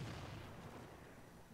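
Mortar fire in the Sniper Ghost Warrior 3 video game gives a dull, rumbling boom that slowly fades over a second and a half, heard alone at a moderate level.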